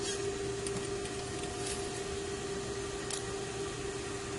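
A sewing machine runs steadily, stitching a gathering row along fabric, giving a continuous mechanical whir with a constant tone throughout and no pauses or talk.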